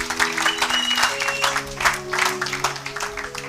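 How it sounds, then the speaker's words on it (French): A church congregation applauding together, a dense steady wash of clapping with a few cheers and an organ or keyboard chord sustained underneath. "Acclamez pour la gloire de notre Dieu"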